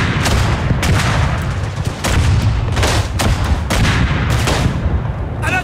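Artillery fire in the video game Verdun, Argonne map: repeated loud booms and blasts arriving every second or so over a constant heavy rumble of battle noise.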